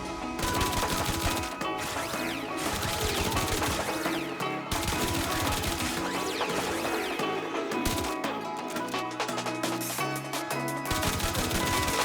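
Automatic gunfire from a charged weapon build in the video game Warframe fires in rapid, sustained bursts with sharp impacts and game effects layered over a continuous background score, loud and dense throughout.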